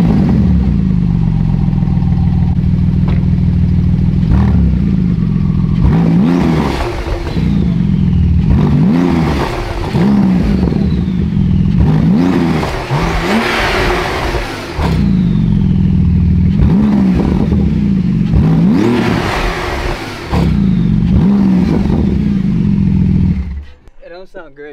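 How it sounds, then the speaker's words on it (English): A Ferrari 812 Superfast and a Porsche GT2 RS rev hard in close succession, loud engine notes repeatedly climbing and falling in pitch for the whole stretch before cutting off abruptly at the end. "let's see how these cars sound."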